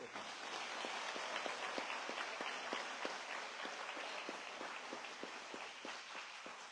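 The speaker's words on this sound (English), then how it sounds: "Give your teachers and leadership a round of applause" A crowd claps for teachers and school leadership at a live event, a steady patter of many hands that sounds fairly distant and muffled, continuing without pause and with no voices on top.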